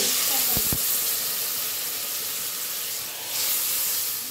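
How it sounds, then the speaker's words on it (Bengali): Tomato and water hit hot fried spice paste for a pomfret, potato and eggplant curry, giving a loud, steady steamy hiss with two brief knocks near the start and a swell near the end. "এবার আমি টমেটোটা আর জল দিয়ে দেবো"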